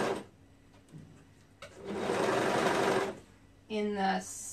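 A sewing machine stitches a sleeve onto a color-blocked tunic top, running in a steady whirring burst of a little over a second, then a shorter run, close to the microphone with soft background talk.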